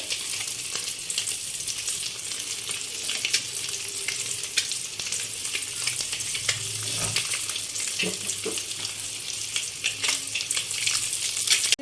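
Eggs fry in hot oil with chili powder and turmeric powder, giving a continuous close sizzle and crackle with light spatula clinks and stirring throughout.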